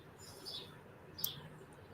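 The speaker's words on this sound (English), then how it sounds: "The birds are singing." Birdsong in a quiet outdoor setting: a few faint, brief high chirps and tweets, one sharper call standing out, over a soft steady background with no talking.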